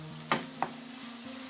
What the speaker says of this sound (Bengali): পেঁয়াজটা এখন 5 মিনিট ভাজা হবে